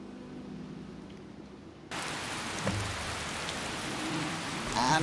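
Steady rain in Skyrim Special Edition begins abruptly as a dense hiss of falling drops, replacing a quieter ambience and continuing evenly at moderate loudness with a faint thump partway through.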